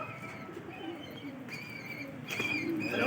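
Pigeons coo softly in a few repeated low calls at a moderate distance, mixed with light ambient noise and faint chirps.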